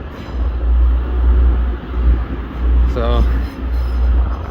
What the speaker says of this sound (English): We've got 185, 139, leaving for Cleethorpes